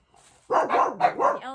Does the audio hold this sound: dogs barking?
yes